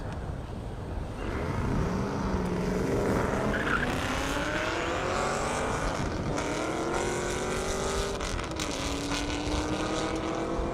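A Camaro and an S10 race down an airstrip on a half-mile track, engines roaring loud and continuous with rising and falling pitch as they accelerate through gears.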